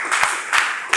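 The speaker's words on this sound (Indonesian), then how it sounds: "tepuk tangan untuk kita semua" Classroom applause from students at a vocational high school in Ciamis, heard as three brief broadband bursts of clapping spaced across about a second.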